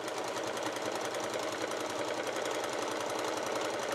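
A sewing machine stitches steadily through a seam on a makeup bag, backstitching at the end, a fast even mechanical rattle running close and continuous throughout with no pauses.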